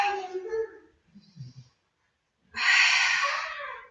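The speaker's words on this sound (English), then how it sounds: "You've got to make that breath like a fog up the mirror breath." A forceful, breathy exhale during a Pilates core exercise, like a mouth-open fog-the-mirror breath, rushes out loudly near the end after fainter, softer breaths and snorts, close and without talking.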